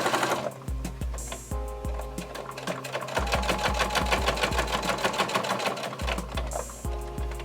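A sewing machine stitches a messenger bag in a close, loud run of rapid needle strokes, pausing briefly and starting again several times, with no voices.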